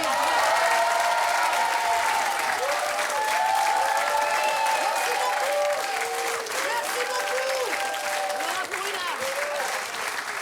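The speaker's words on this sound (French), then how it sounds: "qu'on peut encore applaudir" Studio audience on a French TV talk show applauds loudly and continuously, a dense wash of clapping with some crowd voices mixed in.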